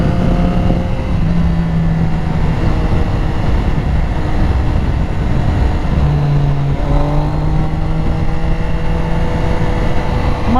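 A sport bike fitted with a new aftermarket exhaust runs loud and steady nearby, its engine note holding a rough low drone with brief rises in pitch, no voices over it.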